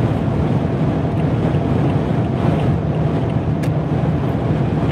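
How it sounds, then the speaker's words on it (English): Loud, steady roar of strong wind, gusting up to 70 mph, buffeting a vehicle in North Dakota, with continuous low rumble and no talking. "potentially we are getting some 70 mile an hour gusts"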